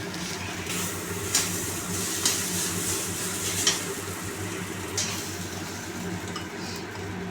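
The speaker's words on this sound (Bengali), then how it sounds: "ভালো করে নেড়ে নেব দেখুন ঘন হয়ে গেছে" A spoon works thick ghetkol leaf paste around a pan, giving repeated scraping strokes over a low sizzle, with a few louder scrapes standing out at close range.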